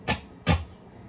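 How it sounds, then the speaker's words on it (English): Two knocks on the wooden body of an acoustic guitar during an intro riff, sharp and close, spaced about a third of a second apart, with a short ring after each. "And he kind of taps his guitar a little, like twice."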